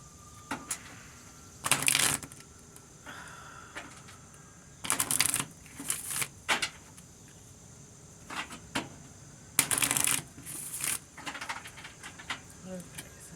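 A deck of cards is shuffled by hand in repeated riffling bursts, close and crisp, separated by short pauses and soft handling clicks.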